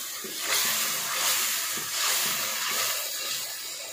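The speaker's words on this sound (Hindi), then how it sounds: "अब 4 हरी मिर्चें और 1 तेज पत्ता डालेंगे।" Green chillies and a bay leaf hit hot oil in a chicken curry with tomato paste, giving a steady loud hiss and sizzle that swells and eases over a few seconds, with no talking.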